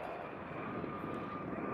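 A steady, droning aircraft engine roar holds at constant loudness throughout, a French Army Airbus H225M Caracal military helicopter passing at moderate distance with a continuous mechanical hum.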